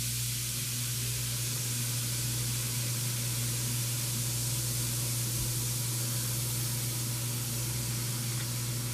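Half a homemade bath bomb, crumbly, fizzes in water with a continuous, even hiss, like an effervescent tablet. The hiss holds steady for several seconds under a low, constant hum.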